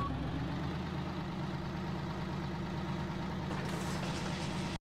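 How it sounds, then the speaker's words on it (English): A Mack B62 truck engine in American Truck Simulator drones loud and steady, a deep rumbling idle with a constant low throb that runs unbroken before cutting off abruptly at the end. "because it's a really loud engine"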